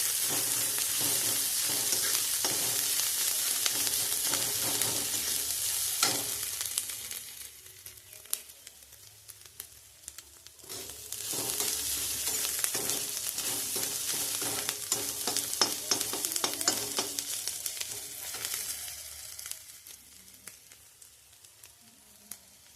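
Ginger frying in a pan for a cauliflower paratha filling gives a continuous close sizzle with spatula stirring and scraping, easing briefly in the middle before building again, with no talking.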